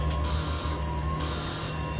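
Whirring bladed vacuum-cleaner monsters in the horror video game The Evil Within give off a steady mechanical hum with a constant whine. Softer hissing swells come and go on top of it.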